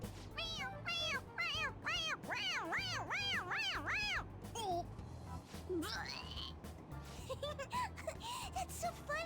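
A pressed toy cat in Persona 5 Royal meows over and over in a quick series of short rising-falling calls, then gives a few scattered meows, with voices and game sounds mixed in.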